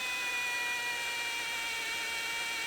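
Power drill with a 1/8 inch bit boring out spot welds on a rebuilt Terrain's panels, a steady high-pitched whine with tonal harmonics, continuous and close, with no pauses.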